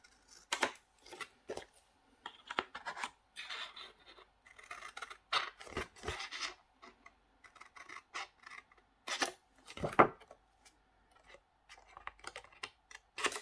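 Thick-tipped scissors cut paper for a box-making craft in repeated short snips and rasping strokes, close and quiet, with irregular pauses between cuts.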